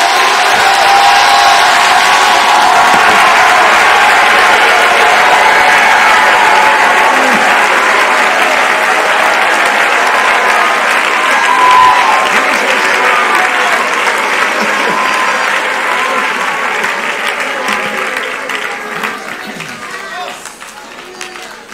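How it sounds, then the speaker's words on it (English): A church congregation at a Pentecostal service gives a loud standing ovation, sustained dense clapping mixed with shouts and cheers that holds steady before tapering off near the end. "give him a standing ovation. Clap your hands, all ye people, and shout unto the Lord."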